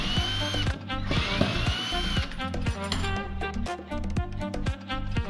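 A power drill bores a test hole into a spare scrap of wood, a steady mechanical whir with rattling, ratchet-like clicks running loud and continuous throughout.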